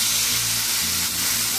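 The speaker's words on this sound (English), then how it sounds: "So now we're going to add in our tomato sauce." Tomato sauce hits golden rice frying in a pan and sets off a loud, continuous sizzle with a bubbling low rumble for Mexican rice.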